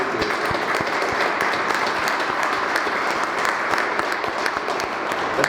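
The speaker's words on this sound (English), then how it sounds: "I think we should give them a round of applause" Applause from an audience at a culinary classroom ribbon cutting at Yuma High, steady dense clapping filling the whole stretch without a break.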